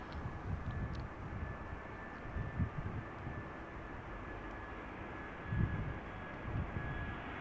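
A Vueling Airbus A320 arriving from Valencia at Amsterdam Schiphol makes a distant, steady jet rumble with a faint high whine, low and continuous with small swells.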